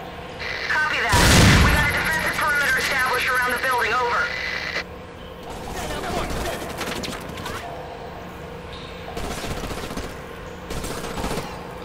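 Loud shotgun blasts from the shooter game Black, a heavy burst of gunfire with rapid rattling shots that then settles into scattered, quieter shots and mechanical clatter while someone talks over the action.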